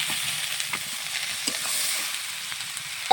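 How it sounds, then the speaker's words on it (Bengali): Sliced onions and whole potatoes frying in a pan give a moderate, continuous sizzle with small pops and stirring scrapes, heard up close without any talk. "আমি এখন পেঁয়াজের পোল আর আলুর গোটা ঢেলে দিলাম।"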